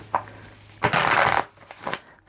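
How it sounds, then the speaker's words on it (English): Quick riffle of a deck of tarot cards, one short soft flutter then a longer loud burst of shuffling, with a faint hum underneath. "We'll shuffle once."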